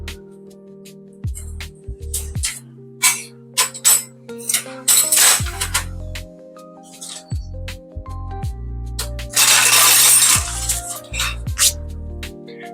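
A spoon clinks and scrapes against a bowl while home-made remedy ingredients, including green peas and chickpeas, are stirred together, with irregular close metallic taps and one longer rattling scrape.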